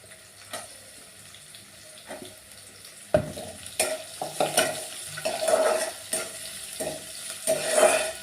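Chopped onion tossed into a pan of frying okra, a quick home-style bhendi bhaji: a sudden clatter and burst of sizzle, then repeated stirring scrapes and crackling that grow louder, close by, with no talking.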